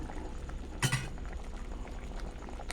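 Water with pandan leaves boils steadily in a pot, bubbling and hissing, with one brief clink near the start and no voices.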